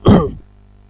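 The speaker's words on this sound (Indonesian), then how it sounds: "Saya batuk-batuk ya." A single short, rough throat clearing, close and fairly loud, lasting under half a second before quiet.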